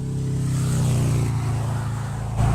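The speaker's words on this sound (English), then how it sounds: "there's quite a bit of traffic here" Road traffic passes close by next to a roadside spot, a steady engine and tire drone that swells and rises again near the end.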